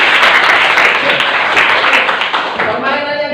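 A group joins in clapping together at a teachers' learning session, a dense wash of applause running the whole stretch at steady loudness, with a voice faintly audible beneath it.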